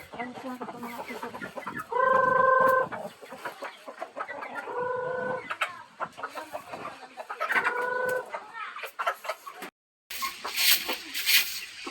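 Chickens on a Visayan farm cluck and call in the afternoon at feeding time, with three louder, drawn-out calls rising over a busy background of softer clucks and chatter nearby.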